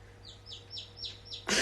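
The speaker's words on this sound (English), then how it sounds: "holding a baby chick that just hatched" A rapid series of five high, thin peeping chirps from a newly hatched chick, close by, ending in a short burst of noise.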